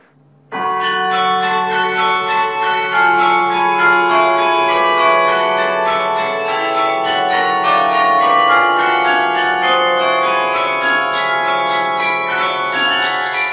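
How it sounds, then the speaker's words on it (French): Loud, continuous peal of many carillon bells ringing together in a tower, a dense cascade of overlapping tones that starts abruptly and sustains throughout. "Pour faire résonner son carillon"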